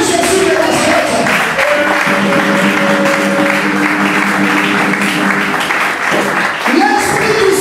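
A church congregation applauds and cheers to acclaim Jesus, with loud, sustained clapping and crowd voices under a sung or spoken line, the clapping swelling again near the end.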